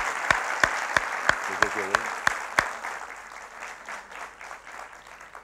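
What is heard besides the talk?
studio audience applause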